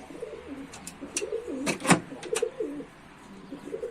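Mardin tumbler pigeons coo in a coop, with a run of close, rolling low coos punctuated by sharp clicks and wing flutters, loudest near the middle and fading toward the end.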